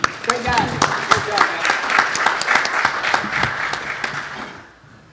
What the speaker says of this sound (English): So let's give a hand of applause for the choir.